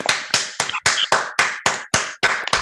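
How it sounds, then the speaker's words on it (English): Separate, sharp claps repeat in a steady rhythm, about nine in under three seconds, as people unmute on a video call to give a round of applause. "round of applause"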